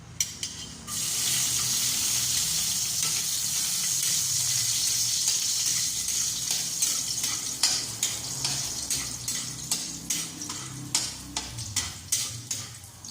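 Garlic dropped into hot oil in a wok, bursting into a loud steady sizzle that fills the space, later broken by rhythmic stirring scrapes and clacks as it fries.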